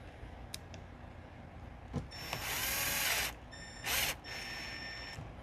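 A power drill drives screws into a plastic RV control panel box, with two short motor whirs close by separated by quiet handling clicks and faint background hum.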